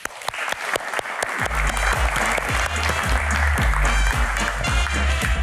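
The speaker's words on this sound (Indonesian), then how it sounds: "Pak Ilham, tepuk tangan sekali lagi" A talk-show studio audience bursts into applause as a guest is welcomed, the clapping starting sparse with a few sharp claps, then swelling into dense, sustained applause that fills the room.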